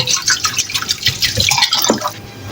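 Tap water splashes and drips as chicken livers are washed by hand in a kitchen, uneven close splattering and trickling with no talk.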